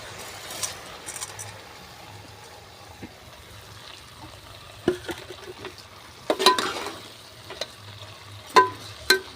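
Khichuri cooks in a pot with turmeric-fried vegetables, dal and rice, giving a faint, low simmering sizzle broken by a few sharp scrapes and clinks of stirring.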